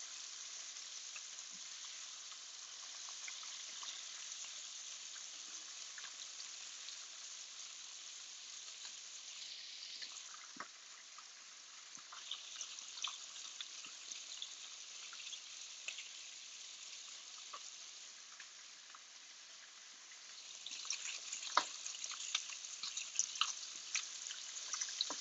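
Thick bacon strips sizzle and spit in a pan, a steady soft crackle with scattered pops and small bursts that grow livelier near the end, with no talking.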